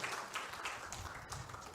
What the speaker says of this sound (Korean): 우리 박수로 우리 축하해 주시기 바랍니다.